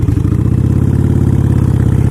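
Motorcycle engine running steadily while riding, a loud, even low rumble with fast regular pulsing that holds constant throughout, no voices.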